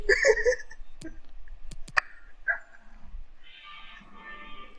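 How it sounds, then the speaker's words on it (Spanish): Dogs bark and yip in a few sharp, separated bursts at moderate distance, with a brief whimper-like tone, set against quiet outdoor background noise. "Pero los perros."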